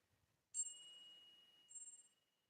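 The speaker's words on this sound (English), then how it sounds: "This is a Tibetan meditation bell." A Tibetan meditation bell struck once, ringing out with a clear bright tone and a long sustained shimmer, then a second lighter strike as the ring fades, quiet and alone.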